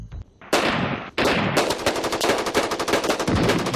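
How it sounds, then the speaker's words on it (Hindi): Heavy mortar and artillery fire in a battle at Sardar Post, a company border position, comes as dense, rapid bursts of loud gunfire that pound almost continuously, close and harsh, with no talking. "जवाब आया भारी मोर्टार और तोप के गोलों से।"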